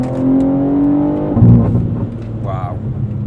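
A tuned 720 hp BMW M3 Touring G81 Competition xDrive on a 700 horsepower map roars close and loud as it accelerates hard with wheel spin, the engine note rising then dropping.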